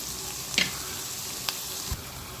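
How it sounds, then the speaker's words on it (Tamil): Onions frying in a pot for an anchovy fish curry give a quiet, steady sizzle with a few faint scrapes of stirring. "வெங்காயம் நல்லா வதங்கிட்டுருக்கு"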